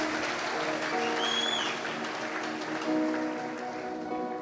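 A church congregation at a revival conference applauds in a broad, steady wash of clapping that fills the room, with a faint tonal sweep and sustained hum running underneath.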